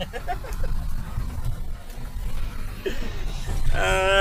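A loaded sand-and-gravel truck sounds its horn, a loud close multi-tone blast at the end over a rumbling engine and road noise, with someone speaking earlier.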